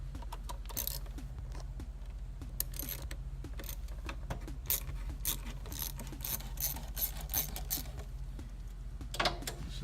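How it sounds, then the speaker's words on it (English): An intake hose clamp being loosened on a 2g Eclipse DSM 420a engine, heard as a close, continuous ratchet clicking over a steady low background, with quick metallic ticks that speed up and slow down, and no talking. "remove one of these clamps so we get this intake out of the way"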